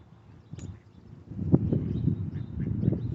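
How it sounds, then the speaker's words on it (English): Ducks quack a few times near the water beside park benches during spring high water, short nasal calls rising over a low outdoor rumble, moderately close. "And here come the ducks."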